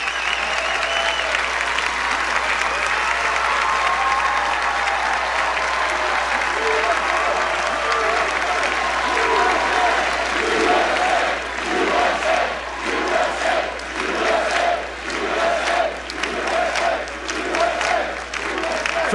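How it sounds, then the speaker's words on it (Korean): A large crowd at a Donald Trump speech applauds loudly and steadily, with scattered cheers and shouts rising through the sustained clapping. "이때 가장 많은 박수가 나왔습니다."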